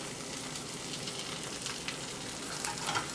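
An egg frying in a couple of teaspoons of vegetable oil in a frying pan on medium-high heat crackles with a soft, steady sizzle, close and alone.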